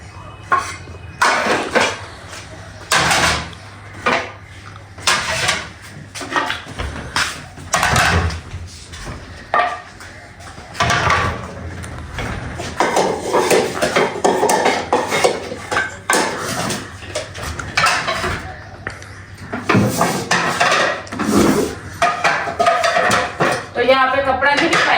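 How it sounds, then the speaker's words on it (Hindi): Metal pots, pans and dishes clatter and clank repeatedly as they are handled for washing in a rural mud-house village home in Pakistan, loud and close, with someone talking over parts of it. "मैंने कहा बर्तन उतार के ना इनको धो लूं"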